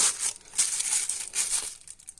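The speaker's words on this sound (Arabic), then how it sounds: "دلوقتي غطيتها بالكيس كويس" A white plastic fridge bag crinkles continuously while being drawn over a bowl of oiled pizza dough, with close, steady rustling and small crackles that taper off toward the end.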